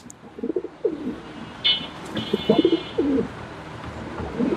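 Pigeons coo repeatedly at a pigeon market in Mirpur-1, soft rhythmic calls close by, with a few chirps mixed in and no talking.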